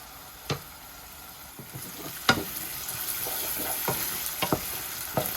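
Onion fries in a pan with garlic and a little potato, a soft steady sizzle punctuated by a few sharp scraping stirs, close up with no voices.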